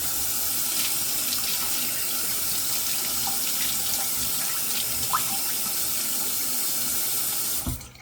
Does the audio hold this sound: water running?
yes